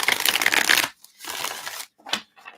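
A deck of tarot cards is shuffled by hand in a few quick riffling bursts, crisp papery flutters separated by short pauses, close and fairly loud.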